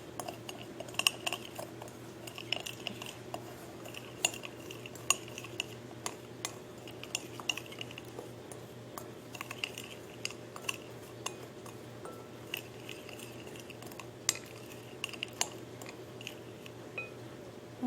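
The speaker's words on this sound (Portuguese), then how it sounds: "Então, você vai mexer." A spoon stirs a gluten-free, lactose-free sweet potato bread mixture in a bowl, giving quiet, irregular clinks and scrapes against the bowl over a low, steady kitchen hum.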